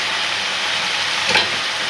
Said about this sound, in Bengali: ভাজা করে সবজিটা সুন্দর করে ভাজা হয়ে গেছে